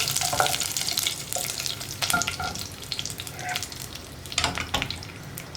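Curry leaves and tempering for a pumpkin curry fry hard in a pan with a loud, uneven crackling sizzle as they are stirred, the bursts swelling and fading in waves; no talking is heard.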